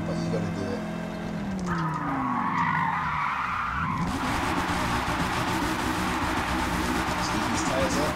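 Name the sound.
car tires skidding while drifting a 1997 Volvo 850 R in Forza video game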